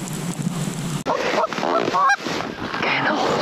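Geese honk in a loud, close flurry of overlapping calls during a Colorado Front Range goose hunt, with a sharp break partway through and no voices.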